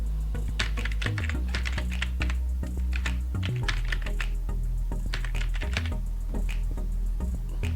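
Steady rapid keystrokes on a computer keyboard as an email address is typed in during setup of a GitHub account, close and clear, with short pauses between bursts and a low hum beneath.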